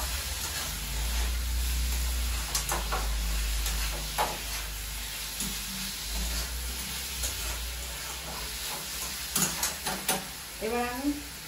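Capsicum and onion fry in a pan with a steady sizzle while being stirred, with intermittent scraping and clinking of the utensil and a few soft voice-like sounds near the end.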